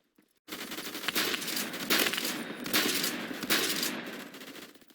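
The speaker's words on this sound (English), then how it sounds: "You fool, I have a shotgun, and obviously that beats your fully automatic weapon." Phantom Forces gunfire from a shotgun and a fully automatic weapon, a dense run of rapid sharp shots with a few stronger blasts, fairly loud and continuous.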